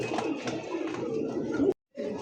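Pigeons kept for sale, including Lahori birds, coo in low, steady throaty phrases close by, with a brief pause before the cooing resumes.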